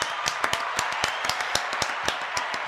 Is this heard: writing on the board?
no